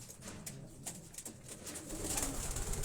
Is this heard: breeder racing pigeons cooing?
yes